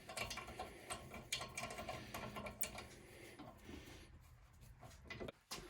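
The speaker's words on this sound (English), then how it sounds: "now you can use the impact screwdriver just to twist them back on" Faint, rapid mechanical clicking and ratcheting as an impact screwdriver twists brake rotor screws back in on a 2017 Kia Forte rear brake, scattered with small knocks and handling sounds.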